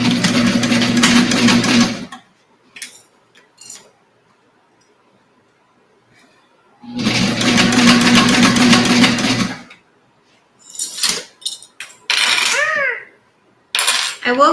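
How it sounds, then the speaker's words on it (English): Sewing machine stitching a quilted duffle bag: two loud runs of rapid mechanical stitching, each about two to three seconds long, separated by quiet gaps with small handling clicks and brief talk. "We're gonna go ahead and sew down this side here."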